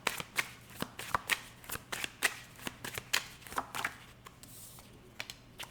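Tarot cards being shuffled and drawn from the deck, a run of crisp riffling snaps and soft slaps in an irregular rhythm, close and fairly loud with no talking.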